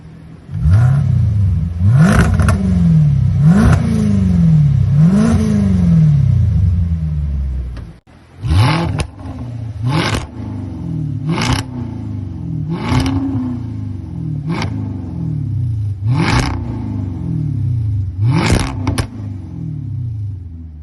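Car exhaust with the cutout valve open, revved repeatedly: loud, deep rumbling blips rising and falling, a steady series of about a dozen sharp revs with a brief pause near the middle, no voices.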